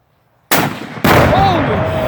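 A rifle shot sets off a 60-pound charge of tannerite explosive outdoors: a sharp crack after silence, then a second, louder blast about half a second later that rolls into a long, booming rumble. Voices can be heard faintly under it.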